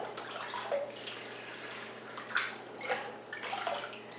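Potted orchids being watered: faint, soft pouring and trickling of water with a few small splashes, quiet and close, without speech.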